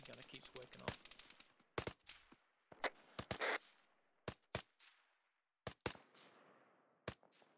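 Machine gun on a technical vehicle rattles off repeated bursts inside an Arma 3 battle, loud broadband cracks in clusters with pauses between, while voices talk over the gunfire.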